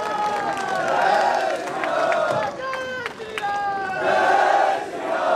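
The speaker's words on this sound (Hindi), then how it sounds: "श्रीमान केशव प्रसाद जी मौर्य साहब, जोरदार तालियों से स्वागत एवं अभिनंदन करें।" A large crowd at an election nomination rally in India cheers and shouts in welcome of Deputy Chief Minister Keshav Prasad Maurya, with sustained loud crowd noise and raised voices throughout, briefly dipping and swelling again.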